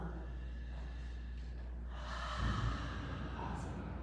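During a grounding Forrest Yoga session, a person lets out a slow breath through the mouth. The soft, breathy exhale swells midway and rises above a steady low room hum.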